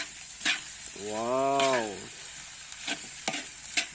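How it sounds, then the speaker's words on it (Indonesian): Rice for nasi goreng fries and is stirred in a pan, giving a steady sizzle with scraping stirs and a brief voice partway through. "Oke guys, kita hari ini goreng nasi."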